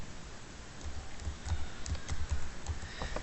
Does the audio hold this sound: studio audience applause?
no